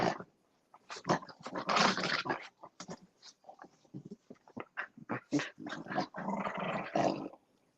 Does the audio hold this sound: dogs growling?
yes